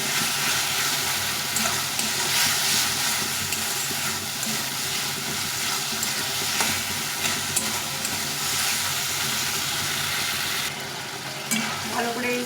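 Fried potatoes are stirred into an oily egg curry masala in a hot pan, giving a continuous loud sizzle with scraping stirs for over twelve seconds, with no talk over it.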